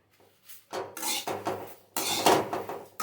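Moringa powder is dry roasted and stirred in a pan, heard as loud, close bursts of scraping and rubbing from a utensil against the metal, separated by short pauses.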